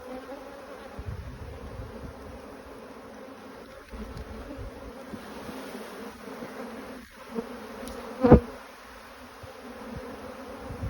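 Honeybees in a hive that is preparing to swarm, giving a continuous low buzzing hum with a few brief louder bumps and one sharp close burst near the end, all heard without talking.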